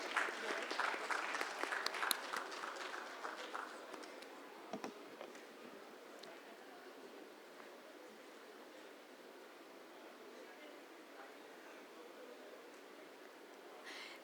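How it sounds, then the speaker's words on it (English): An audience at a business talk claps in a loud burst of applause for a few seconds, then it thins out and fades to quiet room tone. "We need your big round of applause, audience."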